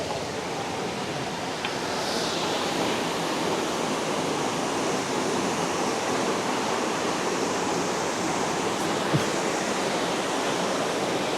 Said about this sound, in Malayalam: ഫൈനലി നമ്മൾ റെയിൻബോ ഫാൾസ് കവർ ചെയ്തിരിക്കുകയാണ്. അപ്പോൾ ഡയറക്റ്റ് അതിൻ്റെ അടിയിലാണ്